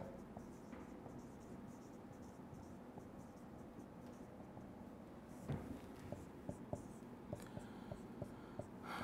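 Pen or chalk writing during a Hindi-language chemistry lecture on phenol reactions, heard as soft continuous scratching over a steady hiss, with a few sharper taps and strokes near the end.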